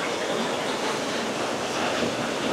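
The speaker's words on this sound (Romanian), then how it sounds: "Zgomotul produs de apă este foarte puternic." Fast-flowing water rushes loudly through a channel with a drop in Winchester, England, a continuous broadband roar that is close and steady throughout, with no talking.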